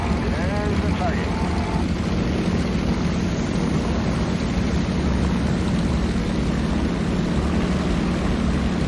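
Bomber and fighter aircraft engines in a World War II naval air battle video game drone as a dense, steady roar that holds loud and unbroken throughout, with a brief higher tonal whine near the start.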